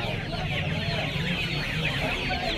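Hens cluck continuously at a busy poultry market in Uluberia, a dense chorus of many birds close by, with crowd noise mixed in and no clear speech.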